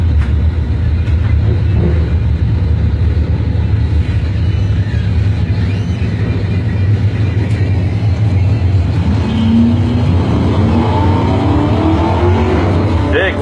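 A 99 Chevy S10 and a 79 Mustang drag racing down the strip at a dirt-track-style event, a loud continuous engine roar with rising revs near the end, under an announcer's commentary.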